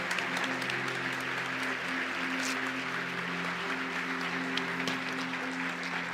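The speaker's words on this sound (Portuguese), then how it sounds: "Uma salva de palmas para Jesus." Sustained applause from a church congregation fills the hall, steady and dense with scattered louder claps and faint crowd murmur underneath.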